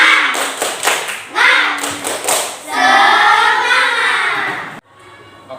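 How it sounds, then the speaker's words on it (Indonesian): A primary school class claps in a quick rhythmic spirit-clap pattern while chanting together in Indonesian, then the voices stretch into a long shared call before stopping abruptly. "Biar tambah semangat, tepuk semangat dulu."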